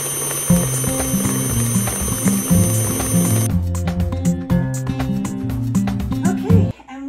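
A KitchenAid stand mixer runs, mixing strawberry buttercream with food coloring, giving a steady mechanical whir with a repeating ratcheting rhythm before switching off near the end.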